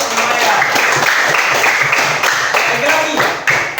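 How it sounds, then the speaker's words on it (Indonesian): A classroom applauds a student, a dense burst of many hands clapping steadily for several seconds and fading toward the end, with a voice speaking over it. "Tepuk tangan lagi untuk Maya."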